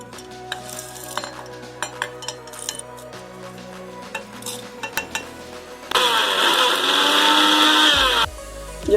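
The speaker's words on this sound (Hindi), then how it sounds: "हमें सारे खड़े मसाले ड्राई ग्राइंडर जार में डालकर" Clinking utensils and small kitchen knocks give way to a loud, close whirring roar as a dry grinder jar pulverises whole spices for about two seconds, then the motor stops abruptly.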